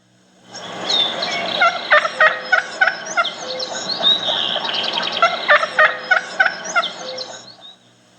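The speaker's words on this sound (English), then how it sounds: "let's listen to a real hen as she wakes up" A real wild turkey hen calling as she wakes, a close, loud run of rhythmic yelps and clucks lasting several seconds, alone with no talking.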